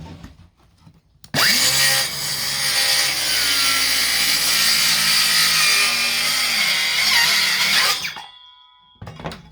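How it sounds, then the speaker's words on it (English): A powerful electric saw cuts through plywood, a loud, steady whining grind lasting about seven seconds with a sharp start and stop, slight pitch dips as the blade loads, and a brief jam near the end. "No problem cutting plywood."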